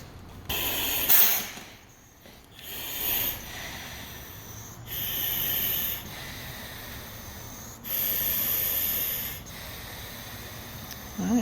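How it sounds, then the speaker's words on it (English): Slow, regular breathing through a firefighter's breathing apparatus mask regulator: four or five loud hissing inhales separated by quieter pauses, close and mechanical-sounding. "this is what it would sound like if I'm in your house breathing"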